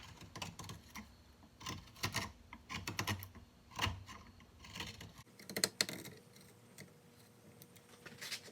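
Hand carving of a walnut spoon with a curved spoon knife: repeated short scraping cuts in irregular bursts, close and fairly quiet, with a brief pause and lighter scrapes toward the end.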